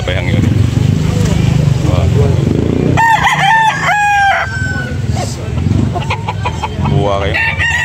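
A crossbreed rooster crows loudly and close by, a single drawn-out call in the middle, with clucking around it and someone talking through the scene.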